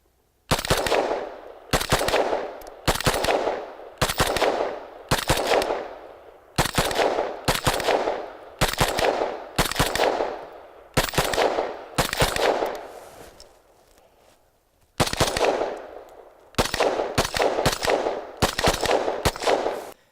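AR-15 rifle firing at an outdoor range: repeated loud sharp shots in steady evenly spaced runs, with a brief pause near the end before the shots resume, and no talk.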